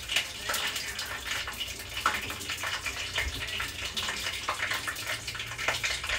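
Water runs and splashes steadily off freshly washed rice as it drains in a home kitchen, a close, continuous hissing trickle with small irregular gurgles and no talk.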